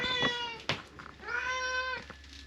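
A pet cat on a homestead meows several times in quick succession, close by, with short, drawn-out cries and no talking.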